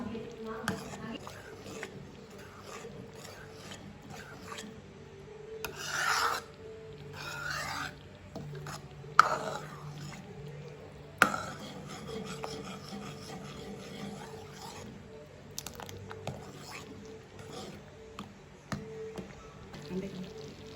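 A spoon scrapes and rubs through thick purple yam porridge made with urad flour in a pot, giving intermittent rasping strokes and a few sharp knocks, with quiet voices in the background.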